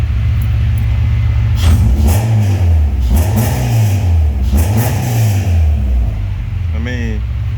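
A Honda Civic engine runs steadily up close, its pitch rising and falling in repeated revs before settling near the end.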